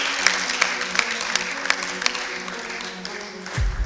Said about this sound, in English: a round of applause so she hears it virtually